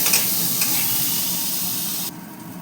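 Potatoes coated in turmeric and salt frying in a wok, giving a steady, close hiss of oil that runs unbroken and then softens near the end.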